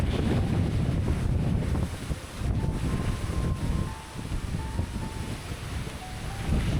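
Typhoon wind roaring and buffeting the microphone continuously, with a gusty rumbling rush and faint whistling tones throughout as it forces through a gap.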